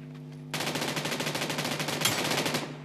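Sustained rapid automatic gunfire from the mobile shooter PUBG New State, a dense steady rattle of shots lasting about two seconds with one slightly louder impact near the end, heard alone without talk.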